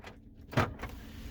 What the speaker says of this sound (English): I open and close the lock over here